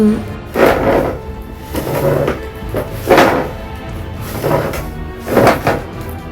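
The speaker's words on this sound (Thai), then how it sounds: "ได้ยินเสียงเคลื่อนโต๊ะเก้าอี้ ดังมาจากข้างห้อง" Tables and chairs being moved in the room next door of a fifth-floor rental room, heard as five muffled wooden thuds and scrapes spaced at roughly regular intervals, moderately loud through the wall.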